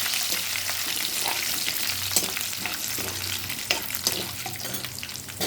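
Lentils and dried red chillies fry in oil for tamarind pulihora, a close, continuous crackling sizzle with light stirring scrapes and no talk.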